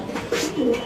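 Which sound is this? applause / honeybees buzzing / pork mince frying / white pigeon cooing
white pigeon cooing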